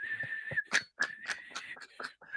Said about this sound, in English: All that's a whistle.